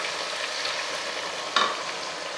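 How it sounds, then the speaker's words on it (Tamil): Tomato and ground masala paste sauté in oil with a soft, steady sizzle, and one sharper scrape of a spoon against the pan partway through, close by and without speech. "அதையும் லைட்டாக அந்த எண்ணெயில் வதக்கி விட்டுறலாம்"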